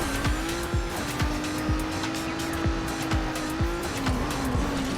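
A race car in Trackmania Turbo, with its engine holding a steady note and tires squealing, gives a run of sharp, repeated impacts against walls, roughly two per second, loud and close with no talk.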